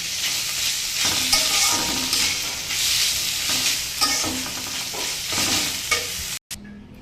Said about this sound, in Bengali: অল্প সময় নাড়াচাড়া দিয়ে শাপলাটা নামিয়ে নেওয়া যাবে